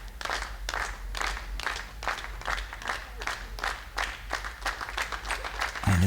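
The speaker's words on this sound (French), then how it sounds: "sous les applaudissements du public angevin" Sustained applause from the home crowd at a mixed doubles boules match in Angers, France against England; dense steady clapping throughout, fairly close and loud, rising slightly at the end.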